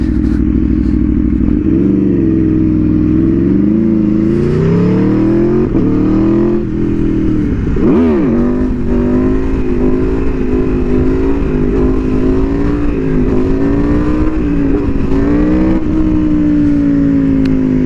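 Aprilia Tuono V4R motorcycle engine roaring loud and close near an airport, holding a steady high drone with rising and falling revs and a sharp throttle swing midway, no talking.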